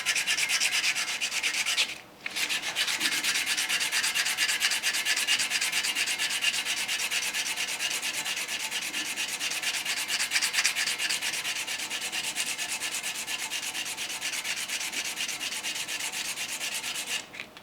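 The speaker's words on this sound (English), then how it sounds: "just using a sheet of 220 sandpaper here" A guitar nut is rubbed back and forth on a sheet of 220 grit sandpaper, making a steady close scratchy hiss that breaks briefly once, then continues evenly, with no talk.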